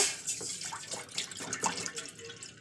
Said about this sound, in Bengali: প্রথমে অল্প জল দিয়ে দেবো